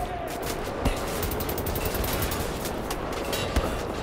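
Sustained gunfire in the shooter game Wolfenstein: The New Order, a dense stream of rapid shots with two sharper reports standing out, muffled and fairly distant, with no talking.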